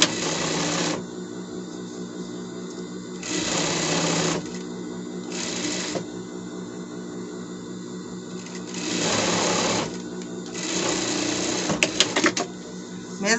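An electric sewing machine stitches fabric seams together for a bed protector, running in several long whirring bursts separated by short pauses, close and steady.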